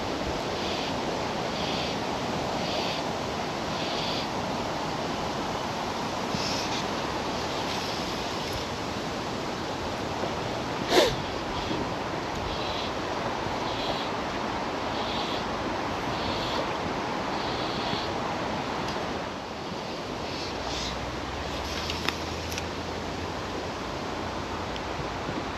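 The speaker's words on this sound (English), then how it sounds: "Wind caught my line and blew it upstream." Steady wind rushes and buffets the microphone outdoors beside a river during fly fishing for trout and salmon, a broad continuous roar with a few brief knocks.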